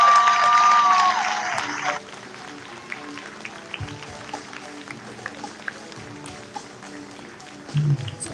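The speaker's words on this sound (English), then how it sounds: "Ladies and gentlemen, a big Texas round of applause for Cassandra Spencer." Audience applause and cheering at a Texas rally against censorship, loud for about two seconds and then fading into a softer, scattered crowd murmur.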